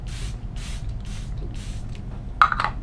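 Several short, breathy hisses of a Charlotte Tilbury setting spray pump mist in a quick series, then a brief rustle and a faint higher squeak at the end, over low background hum.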